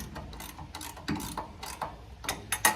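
A hand ratchet clicks in quick bursts while loosening bolts on steel plates for a 1940 Chevy build, with sharp close metallic ticks and small knocks and no talk.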